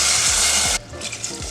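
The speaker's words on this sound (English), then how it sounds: "I toasted the rice and now I have to add in veggie" Veggie broth pours into toasted rice in a hot oiled pan, a loud steady hiss for most of the moment that drops abruptly to a softer bubbling simmer.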